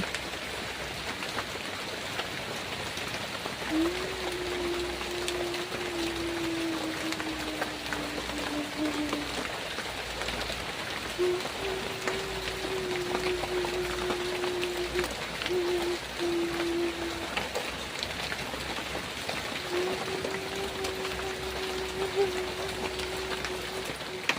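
Rain falls on a campsite shelter as a steady, even hiss with no breaks. A drawn-out hooting tone sounds faintly three times over it.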